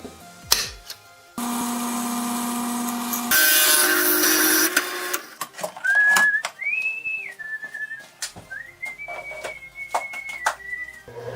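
A drill press motor hums steadily for a few seconds and then runs louder, followed by a person whistling a wavering tune over light workshop clatter.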